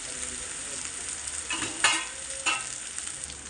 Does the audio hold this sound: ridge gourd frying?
yes